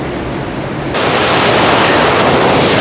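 Loud, steady rushing water fills the scene in Bavaria, a dense roar that swells even stronger partway through and never lets up.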